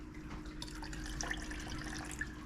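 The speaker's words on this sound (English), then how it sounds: "I'm going to just pour a little bit of this" Liquid fertilizer trickles into a container of water, a soft, faint splashing pour with small drips, alone and close by.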